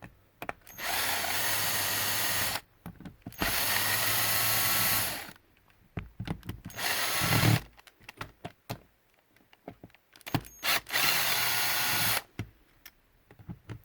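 A cordless drill removes T15 Torx screws from a Schlage keypad deadbolt in several bursts of a few seconds each, with clicks, taps and handling noises between runs.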